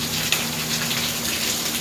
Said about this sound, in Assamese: মা বৰষুণ দবা পিটিয়ে দি আছে দেখোন